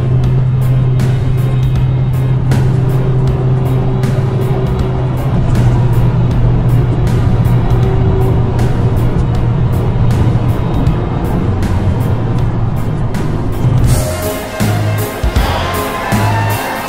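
Off-road jeeps, including a Toyota, a Honda CR-V and other 4x4s, drive on a road near Omsk with one overtaking the others; a steady, loud engine and road drone with a sustained low hum continues throughout, turning rougher and more uneven near the end.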